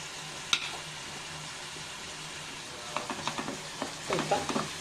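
Onions and ginger garlic paste sauté in a pan on a medium flame, with a soft sizzle and scattered spoon taps and scrapes that grow busier toward the end.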